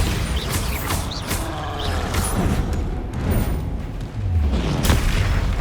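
Rapid spell blasts and explosions in a Hogwarts Legacy duel, Confringo and Bombarda casts firing in quick succession as sharp cracks and deep booms over a dense, continuous bed of battle noise.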